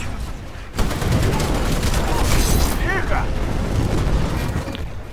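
A titan being blown up in the video game Titanfall, a sudden loud boom followed by dense, sustained crackling and rumbling explosions and gunfire, with someone talking over it.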